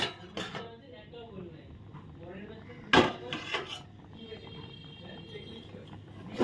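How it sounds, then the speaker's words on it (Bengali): A lid comes off a frying pan of frying chana dal fritters with a sharp metallic clank near the middle, a few lighter clatters around it, and a voice speaking close by. "এখন আমি ঢাকাটা তুলে দেখবো"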